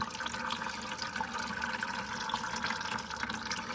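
Transmission fluid drains steadily from a 2000 Cadillac Seville SLS with a 4T80E gearbox, making a continuous soft splashing trickle into a catch pan. The sound is faint and unbroken, with no voices.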